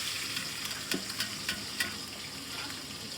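Onion frying in hot oil with pulao spices (cumin, cinnamon, cloves and bay leaf) in a hostel kitchen pan, a steady soft sizzle with a few light taps and scrapes of stirring, close and without talk.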